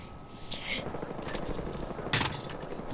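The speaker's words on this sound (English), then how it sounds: "an AKM shot me" Automatic AKM rifle fire in the video game Battlefield Hardline, a steady crackle of rapid shots under game noise, with a louder burst near the end.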